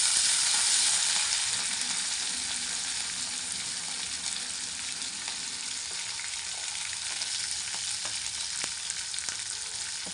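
Curry leaves and cut green chillies fry in oil for Maharashtrian pithla, a loud, dense crackling sizzle that starts strongest and then settles into a steady hiss with faint occasional ticks, no voices.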